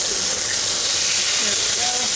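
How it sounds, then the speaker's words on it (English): Pork chops searing in a Pampered Chef cast iron pan give off a steady, loud, unbroken sizzle and hiss that runs through the whole moment without a pause. "I'm going to get these pan seared in my pampered chef cast iron today."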